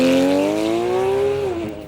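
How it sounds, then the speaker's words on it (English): A Porsche sports car races flat out on a 4.8-kilometre tarmac rally superstage at Georgetown, its engine note climbing steadily in a loud, close, continuous howl before easing off near the end. "His perfect Porsche netting top time on today's track"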